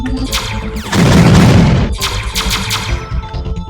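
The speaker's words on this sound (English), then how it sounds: "There's an explosion there in the background." An explosion in a C-Type remake game bursts out as a rough, roaring blast lasting about a second. It sits between quieter game sound effects and rapid shots, with no talk over it.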